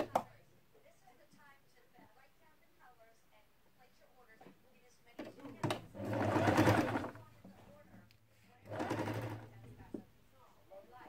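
Sewing machine stitching the shoulder seam of an abaya, two short whirring runs close by, with a soft voice and cooing pigeons in the quiet stretches.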